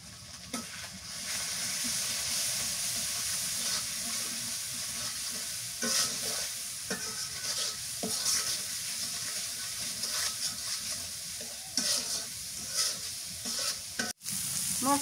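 Masala seasoned with salt and turmeric is sautéed in a pan for a prawn and pumpkin curry, a continuous low sizzle broken by repeated scraping stirs, close and fairly quiet, with a sharp knock near the end.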